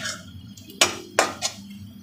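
Buttermilk and gram flour go into a kadai, and a metal utensil strikes the pan in three sharp, bright clinks, the last one softer, over a quiet background.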